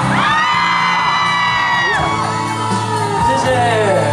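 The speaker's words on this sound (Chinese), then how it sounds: "所有的尖叫声再来我听一下啊" Concert audience at a Taiwanese singer's press event and performance screams and whoops in loud, sustained high-pitched cheering that fills the whole stretch, with overlapping shrill voices rising and falling.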